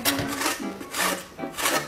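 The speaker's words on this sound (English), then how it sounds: "So I usually just grate my carrots" Carrots grated by hand on a kitchen grater, heard as three close, rhythmic rasping strokes, each a broad scratchy swell, with no talking.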